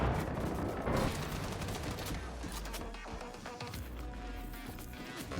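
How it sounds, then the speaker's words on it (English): Enemies open fire on the player in a video game: a continuous rattle of gunfire, loud at first and then settling into a steady stream of shots. "Oh, oh, they're shooting me."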